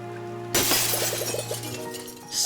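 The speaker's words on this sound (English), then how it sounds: "Suddenly, you hear the sound of glass breaking." A pane of glass suddenly shatters in a loud crash, followed by a brief scatter of tinkling shards, set against a quiet, steady backdrop.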